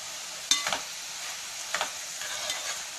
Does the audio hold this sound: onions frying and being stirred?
yes